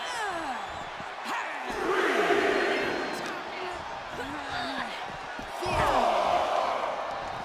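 Wrestling arena crowd in the WWE 2K26 video game, a continuous roar that swells twice into louder cheering surges, with a commentator talking over it.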